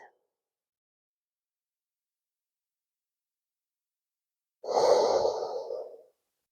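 A single slow, close exhale during a quiet yin yoga pose, lasting about a second and a half and standing alone after a long stretch of near silence.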